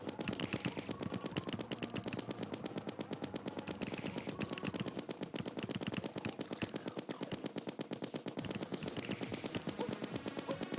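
Rapid continuous automatic gunfire in the video game Terraria, a dense rattling stream of shots that runs without pause throughout.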